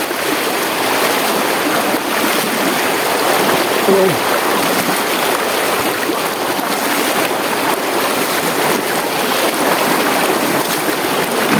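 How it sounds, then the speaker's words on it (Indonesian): River water rushes and churns continuously and loudly during a river crossing, a broad, steady wash with no pauses. "Sekarang ini kita sedang mulai melintasi sungainya teman-teman"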